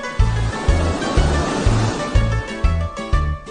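Ocean waves wash steadily onto a sandy beach with shells in a loud, continuous roar of surf, while a regular low pulsing beat of music repeats underneath.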